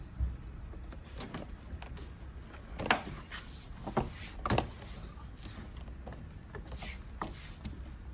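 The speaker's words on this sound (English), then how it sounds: "it's now time to put the door trim back on the vehicle" Repeated plastic knocks and clicks as a door trim panel is pressed and snapped into place on a Toyota Landcruiser 200 Series door, with a few sharper thumps, no voices.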